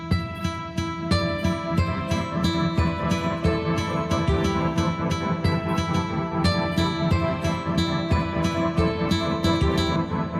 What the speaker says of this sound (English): We added Foundation's nylon guitar to give a different element to the piece.